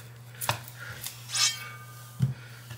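Knife slicing through homemade wild turkey smoked sausage on a cutting board, three separate soft chopping thuds spaced over a few seconds, close and fairly quiet over a low steady hum.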